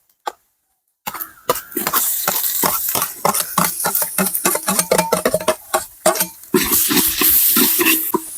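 Shallots, ginger and garlic sizzle and fry in a pan for a Christmas bone-and-tapioca meat dish, stirred with repeated sharp scraping strokes in an irregular rhythm, close and loud after a brief quiet start.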